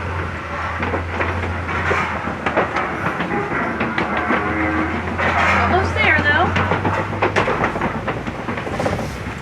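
A vehicle clatters and rumbles over an old bridge with repeated knocks and rattles, while a person speaks briefly over the noise.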